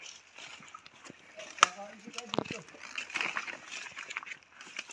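Sea waves slosh and splash against a seawall while people fish there, with irregular watery surges and splashes mixed under steady nearby talk.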